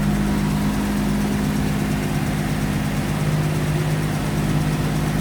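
A 1937 Packard 115-C Business Coupe engine, fitted with its carburetor and intake and exhaust manifolds, idles smoothly and steadily up close with an even low hum and no voices.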